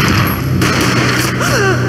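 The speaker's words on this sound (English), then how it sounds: "Gunshot boomed and she fell down in slow motion." A single booming gunshot in the Max Payne video game rings out over a dense, ongoing game soundscape, loud and close with a heavy low-end thump.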